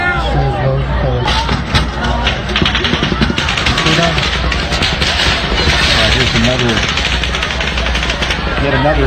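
Dense, loud bursts of gunfire crackle through a noisy scene at the Las Vegas shooting, mixed with shouting and a crowd's commotion throughout.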